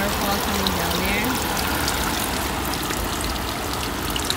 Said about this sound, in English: the palm tree sprinkles out water, and then there's a little waterfall coming down there